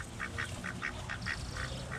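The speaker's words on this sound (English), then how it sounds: "Ducks, not destroying anything, just eating what they can reach." Ducks feeding quack in a rapid, even series of about eight short nasal calls, fairly faint over a steady outdoor background.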